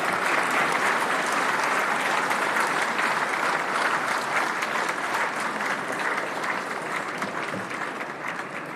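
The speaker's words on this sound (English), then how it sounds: "A big round of applause again." A large crowd at the India Startup Festival keeps up a loud, even round of applause, dense and continuous before tapering slightly near the end.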